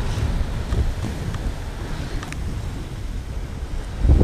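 Cold south wind buffeting a microphone outdoors during urban skateboarding, a loud rough low rumble that gusts and swells unevenly, strongest at the start and end, with no voices.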